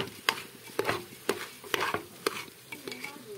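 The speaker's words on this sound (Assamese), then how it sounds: "মই এই চাউলটো পিঁয়াজটোৰ লগত মিহলাই দিম" Rice stirred with onions in a frying pan gives a soft sizzle under repeated sharp scrapes and clinks of the spoon, about eight strokes in an uneven rhythm, quiet and near.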